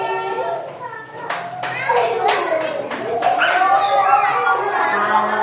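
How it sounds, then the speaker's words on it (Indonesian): Children clap for a classmate group, a short run of about eight distinct claps mixed with lively kid voices and chatter that carry on throughout. "Tepuk tangan untuk kelompok Fitri"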